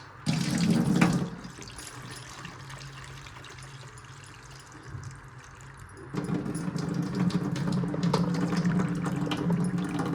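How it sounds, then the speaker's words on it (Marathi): Bitter gourd rinsed under a running kitchen tap after soaking in turmeric and salt, with a steady broadband stream of water that splashes louder at first, eases to a quieter flow, then strengthens again and keeps running. "आता आपण याला चांगलं धुवून घेऊया."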